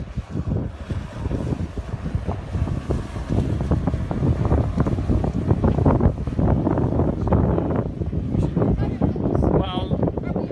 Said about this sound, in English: The wind's gonna blow it that way.